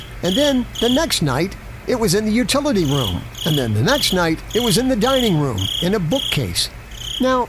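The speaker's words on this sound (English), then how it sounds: "we heard a cricket chirping in our house." A cricket chirps inside a house in short, regular high-pitched pulses that continue steadily beneath a man's clear, close narration.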